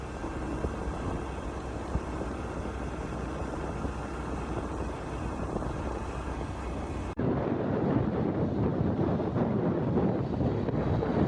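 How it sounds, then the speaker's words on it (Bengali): Continuous low rumble of a ferry engine crossing a river near Bhola, Bangladesh, with wind buffeting the microphone, shifting abruptly in tone partway through; no voices. "তো আমরা ফেরি যোগে নদী পার হচ্ছি"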